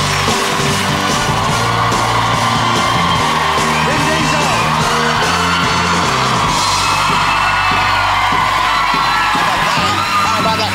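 A studio audience at a TV chat show roars with loud cheering, yells and whoops, sustained and dense throughout as the celebrity guest Vin Diesel walks out.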